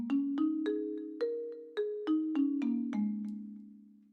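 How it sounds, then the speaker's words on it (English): A marimba melody from a music project in Logic, with each mallet strike ringing clearly and decaying into the next across a short descending phrase. It is mid-level and sounds alone. "So you've got this melody here that comes in with the marimba."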